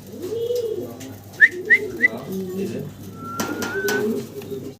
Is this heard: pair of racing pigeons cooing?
yes